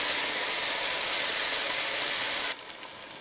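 A haddock fillet sears in a Copper Chef XL pan with a loud, even hissing sizzle that suddenly drops to a quieter crackle near the end.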